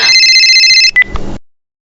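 A cartoon telephone rings with a bright electronic trill that is cut off abruptly after about a second, followed by a short burst of clicks before silence.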